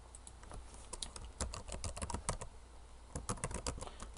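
Someone types a password on a computer keyboard to log into an administrator account, a quick, close run of light key clicks in irregular bursts with a short pause in the middle.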